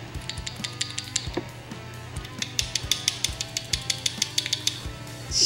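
A loose, wiggly motorcycle kick-starter lever being shaken by hand gives off a quick series of light metallic rattles and clinks in an irregular rhythm. The rattling is close and fairly quiet, with no voices.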